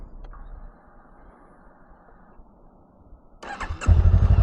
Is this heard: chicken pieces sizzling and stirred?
no